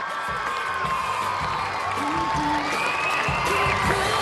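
Young spectators cheer and shout at a rhythmic gymnastics mixed apparatus event with ropes and balls, a steady roar of crowd noise with scattered whoops rising and falling throughout.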